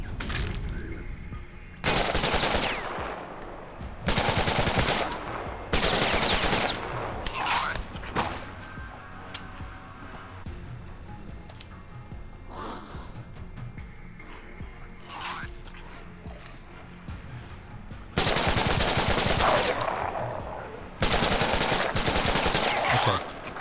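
Bursts of AK rifle gunfire in The Last Stand: Aftermath, several loud sustained volleys of rapid shots separated by quieter stretches of game ambience and scattered single shots.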